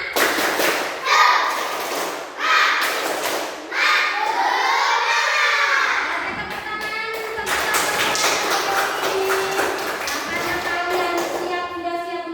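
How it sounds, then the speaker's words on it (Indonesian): A group of children claps in rhythm while chanting together in Indonesian, loud and close, with sharp bursts of clapping between the voices. "Coba kita lakukan tepuk semangat dulu ya bersama-sama. Tepuk semangat."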